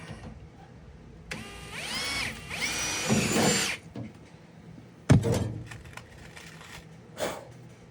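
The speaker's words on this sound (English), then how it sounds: "Drill a hole through the top here." A power drill whines up in speed for a couple of seconds and bores through the top of a fuel tank mount on a pontoon boat, followed by a few knocks and clunks of handling.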